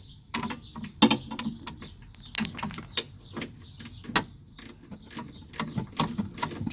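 A small wrench working bolts loose on the sway bar bracket of a 2007 Mini Cooper, with irregular close metallic clicks and ratcheting taps in quick bursts against a quiet background.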